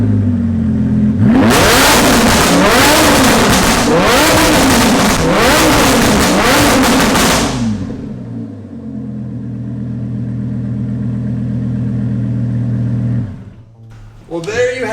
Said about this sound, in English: I'm gonna fire this thing up and give it a few revs